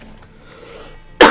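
One sharp, loud cough bursts out near the end after a quiet stretch of faint background sound.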